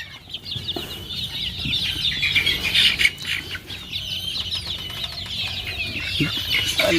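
Native country chickens clucking and squawking nearby, with repeated bright calls, some wing flapping, and a steady layer of farmyard bird chatter throughout.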